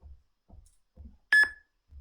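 A few soft thumps followed by a sharp electronic interval-timer beep marking 10 seconds to go, repeated once quickly, standing out clearly against near silence.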